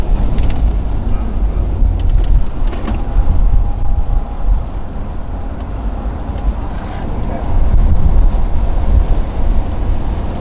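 Camaro driving with its engine note and road noise fairly loud, easing off the throttle as it slows for a turn, with people talking over the steady rumble.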